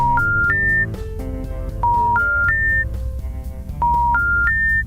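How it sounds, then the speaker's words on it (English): A telephone being dialed for a live radio call, crisp touch-tone beeps in short stepped groups repeated three times, loud and close with no voices. "We've got to give him a quick call here, so we're going to dial him up."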